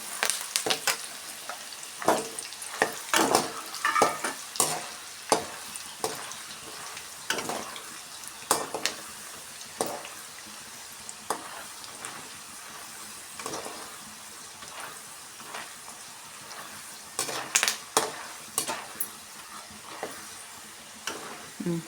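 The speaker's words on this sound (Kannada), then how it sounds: "ಈಗ ನೋಡಿ ಎರಡು ಮೆಣಸಿನ್ಕಾಯಿ ಸೇರಿಸ್ಕೊಳ್ಳೋಣ ಸ್ವಲ್ಪ ಕರಿಬೇವಿನ ಎಲೆಗಳನ್ನ ಸೇರಿಸ್ಕೊಳ್ಳೋಣ ಫ್ರೈ ಮಾಡಿಕೊಂಡು" Green chillies and curry leaves sizzling in oil in a pan, a soft continuous frying hiss punctuated by frequent clinks and scrapes of a spoon stirring.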